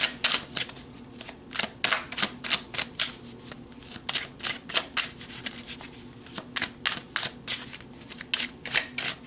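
Tarot cards are shuffled close by, making quick rhythmic riffling slaps that repeat in steady bursts with no speech.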